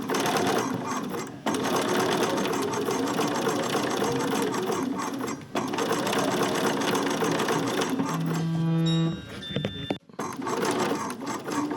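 Sewing machine running steady stitches over rickrack scallop trim on a placemat, a close, continuous mechanical whir that briefly falters, ends in a short tonal beep, then cuts out and resumes.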